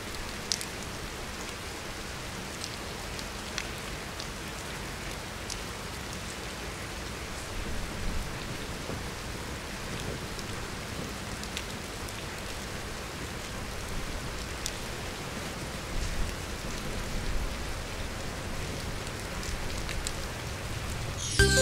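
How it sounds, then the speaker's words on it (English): Steady, dense patter of rain drumming on a tent close by, continuous and fairly loud throughout with no voices. "I think I'm just gonna wait till I stop hearing so much rain"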